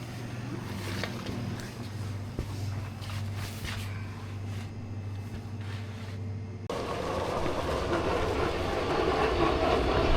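A train passing nearby, a low steady rumble with faint rhythmic rail clatter that gives way to a broader rushing roar as the cars go by.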